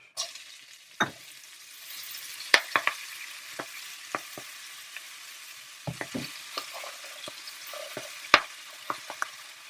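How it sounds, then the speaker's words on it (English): Spinach drops into browned garlic butter in a roughly 12-inch saute pan, giving a soft steady sizzle broken by sharp clanks and scrapes of stirring, with no voices. "And we'll throw in our spinach."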